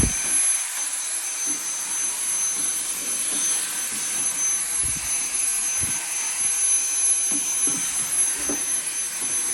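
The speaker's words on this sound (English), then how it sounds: "Opportunity to vacuum everything up." A vacuum cleaner drones steadily and loudly throughout while clearing debris out of a GE dryer being repaired for a squeak, with a high whine and faint knocks of the nozzle against the dryer's interior.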